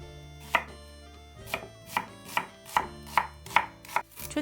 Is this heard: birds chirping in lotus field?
no